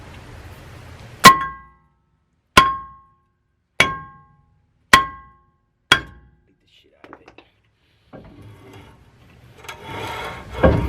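Five sharp metallic clangs ring out at steady intervals as a hammer strikes the brake bracket on a third-generation Cummins truck, each hit decaying quickly, followed by faint rattling and shuffling.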